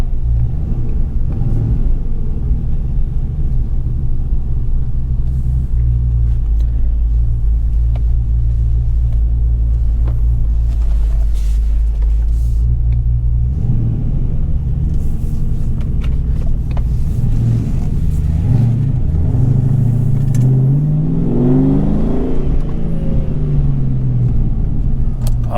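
A 1994 Ford Mustang GT V8 runs loud and close, holding a deep steady idle rumble before the revs climb and the engine pulls away, rising and falling through gears.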